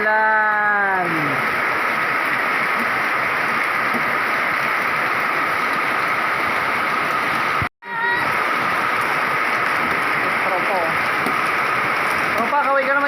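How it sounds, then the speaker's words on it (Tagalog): Heavy rain pours down steadily outdoors, a loud, dense hiss of drops on surfaces that continues without letup, with brief faint voices and a short dropout midway. "Yun, lakas ang ulan oh."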